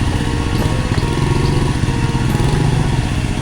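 A motorcycle engine runs steadily and loudly up close, with a constant chugging, throbbing drone and some mechanical clatter throughout, and no speech.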